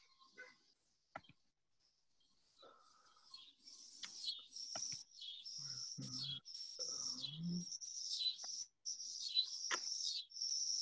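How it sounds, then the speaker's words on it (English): Crickets chirp in a quiet outdoor setting, faint, high and persistent trills building into a near-continuous chorus, with a few soft clicks and a quiet voice murmuring in the middle. "Now you can really hear the crickets."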